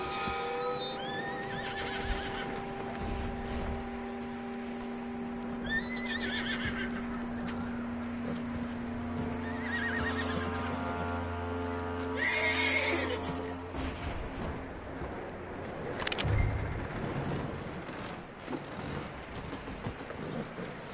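A horse in the video game Red Dead Redemption 2 whinnies loudly several times, with hooves clip-clopping and faint mechanical clicks in the background, no talking.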